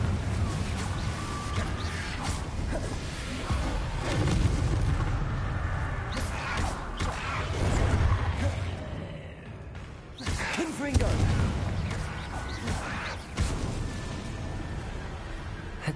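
A Confringo blasting spell goes off in Hogwarts Legacy, giving a burst of booming explosions and crackling blasts over a steady rumbling background, with a voice shouting over the combat.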